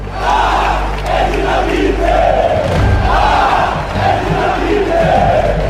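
A packed football crowd at São Januário stadium, the home of Vasco da Gama, roars and chants without a break as fans greet a returning idol, with rolling swells of massed voices over a deep, steady rumble.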